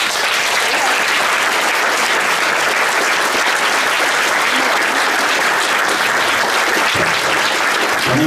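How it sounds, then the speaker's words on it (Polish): A theatre audience at a puppet theatre's 70th-anniversary celebration applauds the artists and staff, giving sustained, loud, even clapping that runs unbroken throughout. "Za to należą się wielkie brawa dla wszystkich artystów i pracowników Teatru Lalek."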